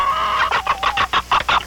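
A hen clucks in a quick rhythmic series of loud, close, nasal calls following a short drawn-out note, with no talk.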